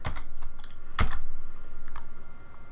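A command being typed on a computer keyboard, a close, fairly loud burst of crisp key clicks with one sharp strike near the middle and lighter taps around it.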